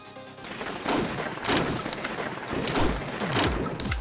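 Gunfire in the shooter video game Shotgun Witch, a rapid series of sharp booming shots and bursts that crackle on and off throughout at moderate loudness.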